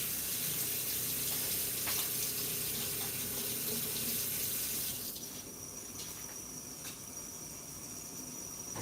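Tap water runs steadily from a kitchen faucet while a cinnamon leaf is washed, a continuous close hiss that drops slightly in level partway through, with no talking.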